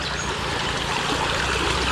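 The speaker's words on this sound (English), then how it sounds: "walking up the creek right now." Creek water flowing steadily while walking upstream during a trout fishing outing, a continuous close rushing and trickling wash filling the whole stretch with no voices.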